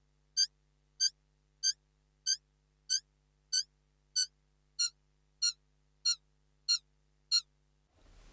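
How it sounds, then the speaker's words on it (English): Twelve sharp, bright electronic clicks from a Korg Opsix FM synthesizer patch repeat at a steady, even pace, each short and crisp against near silence, ending with a brief low rumble. "It's just like a click."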